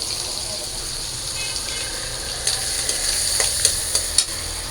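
Turmeric and chilli powder fry in a pan for a prawn curry, giving a steady low sizzle with a few spoon scrapes and taps toward the end.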